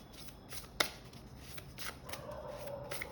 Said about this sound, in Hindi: मुझे एक कार्ड निकालने दो पहले तो इसमें से